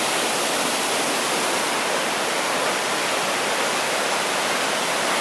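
A waterfall on Japan's Izu Peninsula roars as a dense, even wash of rushing water, loud and unbroken, with no voices.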